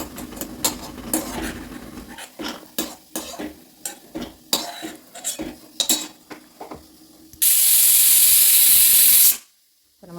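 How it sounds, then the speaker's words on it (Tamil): Pressure cooker on the third whistle during Pongal cooking, a sustained loud hissing steam release of about two seconds after scattered kitchen clatter, then a sudden cutoff. "நம்மளோட குக்கர் வந்து 3வது விசில் வந்துருச்சு."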